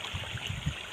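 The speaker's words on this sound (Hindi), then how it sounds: "तो एक खेत से ये वाला खेत में आवत है पानी है" Water flowing from one flooded rice field into the next, a low, steady trickling and gurgling close by with no talk.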